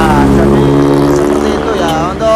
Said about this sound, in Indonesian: untuk cek sound knalpot